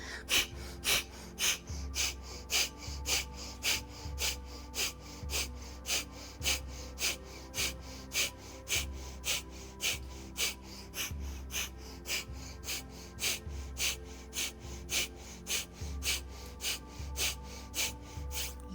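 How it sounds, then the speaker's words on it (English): Breath of fire, a rapid yogic breathing exercise, with sharp forceful exhales pumping in a steady fast rhythm close to the listener for the whole stretch, no talking. "begin breath of fire"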